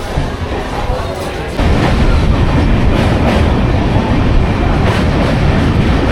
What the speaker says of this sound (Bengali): এখন ট্রেন কল্যাণী স্টেশন ক্রস করছে।